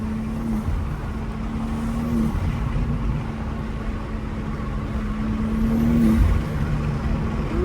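A BMW M2 G87 drives around a racetrack, heard from inside as a constant engine hum with a faint tonal whine that swells a little toward the end.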